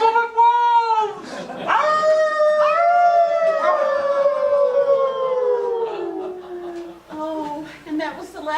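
A long, sliding howl rises then slowly falls over several seconds, tonal and loud, with a second overlapping howl at the start and a brief restart near the end, like wolves howling close by.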